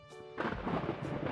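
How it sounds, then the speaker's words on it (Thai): Thunderstorm with heavy rain in a Roblox video game: a short quiet spell breaks into a loud, close thunder crash that rolls into continuous rumbling over rain. "ขณะนี้ฝนตกโอ้โหน้ำท่วมขนาดหนักครับ"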